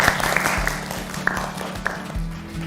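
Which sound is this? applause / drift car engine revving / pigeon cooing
applause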